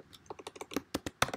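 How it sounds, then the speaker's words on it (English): Someone types commands on a computer keyboard, producing quick, crisp key clicks in an uneven rhythm, close and alone with no voices. "So right now what I'm going to do is I'm just typing"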